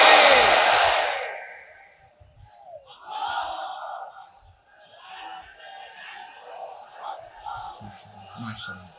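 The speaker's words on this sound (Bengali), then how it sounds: "তাকবীর পড়ুন" A sermon crowd chants the takbir "Allahu Akbar" in a loud burst of many voices, then fades into scattered, quieter responses and murmurs.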